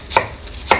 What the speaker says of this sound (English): and then I'll shred the red onion